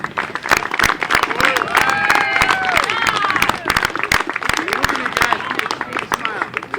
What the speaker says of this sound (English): One more big round of applause there for Ohio City.